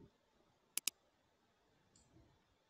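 Two quick, sharp computer mouse clicks in close succession, faint and isolated in an otherwise quiet room while a new desktop folder is made.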